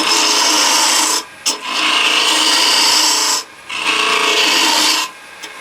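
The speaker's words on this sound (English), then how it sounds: "I'll go back to the 1/4 inch scraper" A 1/4 inch scraper rasping across wood while hollowing a detail box, in three long close strokes separated by brief pauses, with no talking.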